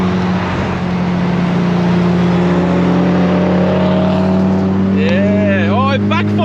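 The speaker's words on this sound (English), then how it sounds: "Oh, it backfired." A Honda Civic EP3 cruising alongside revs hard and lets out a backfire pop near the end, over a steady loud engine drone from the car carrying the listener; voices talk over the noise.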